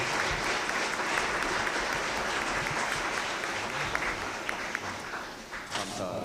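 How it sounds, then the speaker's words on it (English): Large conference audience applauding speakers at an anniversary event, a full, steady round of clapping that thins slightly toward the end. "Let's give them a big round of applause"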